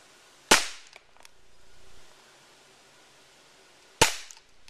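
Two sharp, loud cracks from a cap gun modified into a BB gun firing at targets, spaced about three and a half seconds apart, close by with a faint mechanical rattle between shots.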